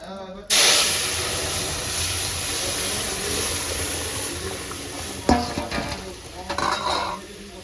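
Food hits a hot kadai and bursts into a loud, sudden sizzle that settles into a steady frying hiss, with sharper spits and crackles flaring up toward the end.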